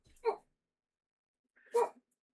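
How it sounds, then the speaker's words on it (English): Dogs bark indoors at home: two short, fairly faint barks about a second and a half apart, separated by near silence. "My dogs are barking."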